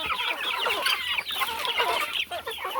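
Farmyard chickens clucking busily while being fed corn in the early morning, a close, dense chorus of overlapping clucks and chatter with no talking.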